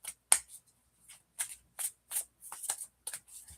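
Playing cards being shuffled close up in a series of short riffling bursts and soft slaps, quiet and intermittent with pauses between them.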